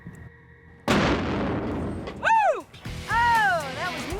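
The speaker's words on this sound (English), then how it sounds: "The explosion rocks the truck with a blast equivalent to almost half a stick of dynamite." A black powder bomb goes off inside a cement mixer truck, a sudden heavy blast followed by a long decaying rumble, then loud whooping, rising-and-falling siren-like tones.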